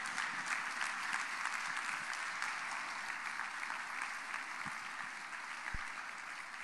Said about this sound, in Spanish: Dele un aplauso a Jesucristo de Nazaret.